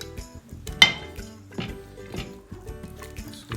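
Chicken being mixed by hand into a paprika and spice marinade in a bowl, with soft wet squelches, light clinks of a bowl and irregular gentle knocks, close and quiet without talking.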